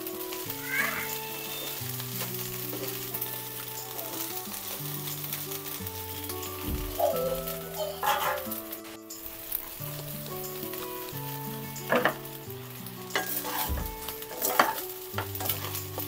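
Egg fried rice with soy sauce being stirred in a pan, a steady sizzle under repeated scraping and clinking of a spatula, with faint background tones throughout.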